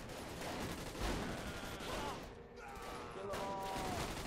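Shotgun blasts from a video game ring out amid busy game noise, with one heavier boom near the start and someone talking over the action.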